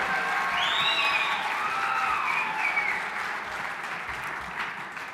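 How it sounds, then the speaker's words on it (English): An audience at a fundraising gala applauds steadily for several seconds, a broad wash of many hands that slowly fades, with faint cheering mixed in. "How about a big round of applause for Lynn?"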